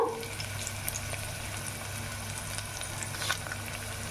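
Curry leaves fry in hot oil for a tomato pickle, a soft, steady sizzle with scattered faint pops and crackles, fairly quiet and close throughout.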